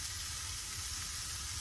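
Ground beef sizzling and frying in a pan alongside onions, a steady close crackle and hiss that fills the moment without any talking.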